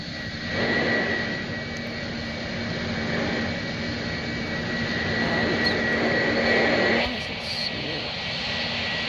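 A fixed-wing aircraft in the Roblox flight game Project Flight comes in on a fast landing approach, its steady jet-engine roar droning loud and continuous with a slight swell and dip toward the end.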